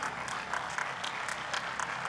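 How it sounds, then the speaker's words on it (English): Applause for the finalists and champions of a US Open 2019 wheelchair doubles tennis final, a steady wash of many hands clapping from a crowd, moderately distant and continuous throughout. "How about a big round of applause for our finalists and our champions?"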